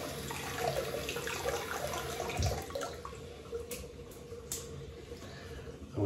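Tap water runs steadily into a sink to wet a shaving brush before lathering soap, a close, continuous splashing stream with faint drips.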